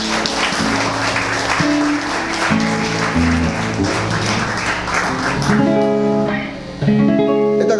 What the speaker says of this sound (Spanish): Dale un aplauso bien fuerte a Él.